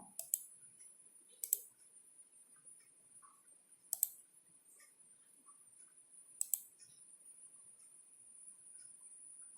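A computer mouse gives a few sharp, isolated clicks, spaced seconds apart against near silence, quiet and close.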